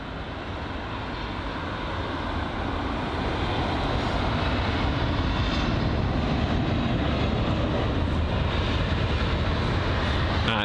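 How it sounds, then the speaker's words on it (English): An Air Canada Boeing 777-300 airliner taxiing at London Heathrow, a broad steady jet engine roar that swells slightly and then holds loud and constant, heard outdoors without talk. "the Air Canada 777-300. That's just going to be taxiing right in front of us now as well."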